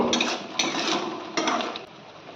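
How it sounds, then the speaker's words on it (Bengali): A spoon scrapes and knocks against a pan while masala thickened with ground peanut paste is stirred, a few close rasping strokes with brief pauses between them. "একটু নাড়াচাড়া করতে হবে, যেহেতু বাদাম বাটাটা আছে, নাড়াচাড়া না করলে নিচে বসে যাবে মশলাটা"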